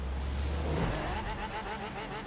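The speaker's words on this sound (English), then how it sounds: "On to the 2016 Lamborghini Centenario." A 2016 Lamborghini Centenario racing in a Forza Horizon drag race, its engine roaring and revving upward in a short, steady, close burst.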